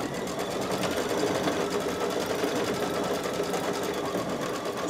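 A home embroidery machine stitches a free-standing lace ornament. Its needle chatters fast and steadily at close range, continuous and fairly loud for the whole stretch, with no voices.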